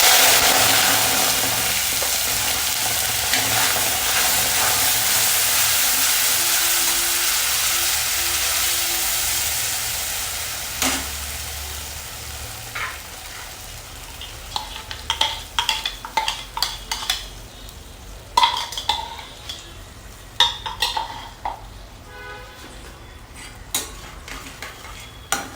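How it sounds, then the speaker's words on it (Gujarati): Tomato paste sautéing in oil in a pan hisses and sizzles loudly at first, then fades as a spoon stirs and scrapes against the pan in repeated short clinks and taps. "હવે આ ટમેટાની પેસ્ટ છે એને સરસ રીતે સાંતળી લેવાની છે"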